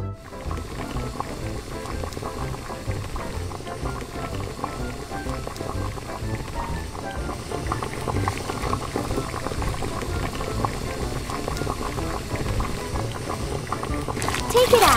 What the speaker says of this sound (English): First, boil the octopus!